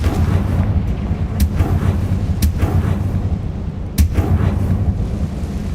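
Confringo fire spell blasts in the video game Hogwarts Legacy, a few sharp explosive cracks over a loud, constant rumbling game soundscape, with no voices.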